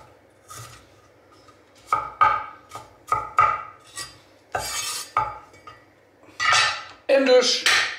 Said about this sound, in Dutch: Ik snijd een beetje voor, iets makkelijker met het vermalen zo.